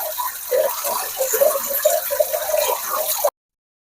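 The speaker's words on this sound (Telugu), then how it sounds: "కరివేపాకు కూడా శుభ్రంగా కడుగుదాం" Curry leaves are rinsed under running tap water, a steady splashing gush close up that lasts about three seconds before cutting off abruptly.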